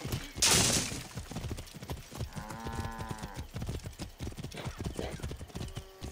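Horse hooves from the video game Assassin's Creed Origins, heard as rapid clip-clop galloping throughout, mixed with whinnies and chariot-race commotion. The sound is moderately loud with a brief burst of crowd noise near the start.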